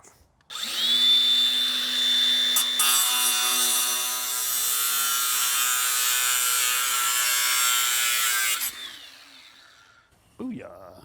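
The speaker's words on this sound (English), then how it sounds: "I got to grind the metal down." An angle grinder grinds down metal for a fire pit build: a loud, close, continuous whining grind that runs for about eight seconds and then winds down to quiet.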